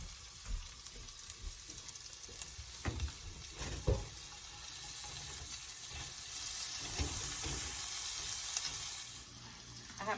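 Brussels sprouts and onion sauté over medium heat in a pan, giving a soft, steady sizzle at low volume. Occasional stirring clunks and scrapes break through, and the frying hiss swells somewhat toward the end.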